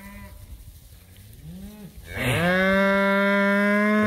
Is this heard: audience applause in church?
no